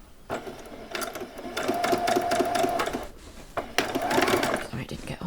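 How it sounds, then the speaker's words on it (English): A sewing machine stitches doll jeans in quick rattling bursts, stopping briefly midway before running again, close by with a person talking over it. "I'm just going to come down in a straight line and stitch straight down."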